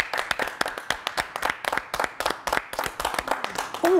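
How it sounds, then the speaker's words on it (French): Scattered hand claps from a television studio audience, sparse and uneven rather than a full ovation, with a brief vocal sound near the end. "mesdames et messieurs, on l'applaudit."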